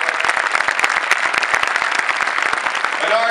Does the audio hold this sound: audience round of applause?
yes